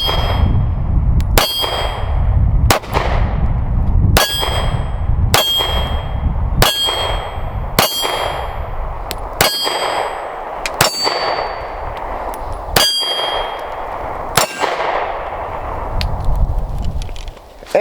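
A Ruger LCP Max pistol loaded with defensive ammunition fires about a dozen loud, sharp shots at fairly even intervals, each with a bright metallic ring. The shots are close and there is no speech.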